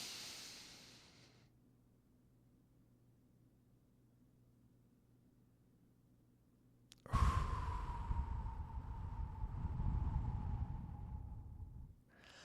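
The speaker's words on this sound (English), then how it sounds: "So I'm going to inhale for a count of 4." A deliberate breathing exercise: a soft inhale through quiet room tone, a held pause, then a long, steady breathy exhale lasting several seconds, close and fairly loud, with no talking.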